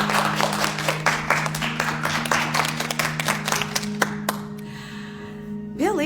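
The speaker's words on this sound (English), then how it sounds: "Let's all give them a round of applause." A classroom of schoolchildren claps in a round of applause, a dense burst of overlapping claps near and steady that thins out to a few scattered claps, with a voice briefly heard at the end.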